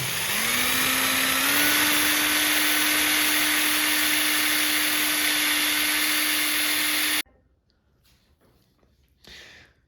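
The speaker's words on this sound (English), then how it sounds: "So you're going to need to hold the actual power plug terminals with a pair of small pliers just to stop them spinning around when you drill them out" A loud, steady high-pitched drill whine drilling out power connector terminals on a Raymarine ST4000 Mk2 autopilot runs continuously for about seven seconds, then cuts off abruptly, leaving near silence with a brief faint rustle.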